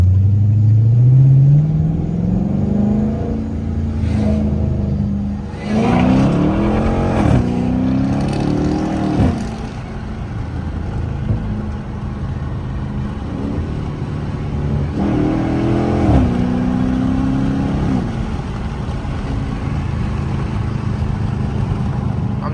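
Loud Chrysler 300S with paddle shifters driving on backroads, its engine droning close and steady with several rising revs and shift surges, a deep exhaust rumble throughout and no talk.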